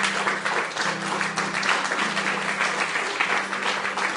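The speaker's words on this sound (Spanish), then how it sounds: "Pero un aplauso a Arbel." A congregation applauds at a church gathering, steady, dense clapping throughout with a low sustained tone humming underneath.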